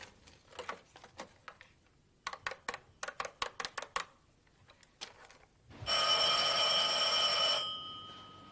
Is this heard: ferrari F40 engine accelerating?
no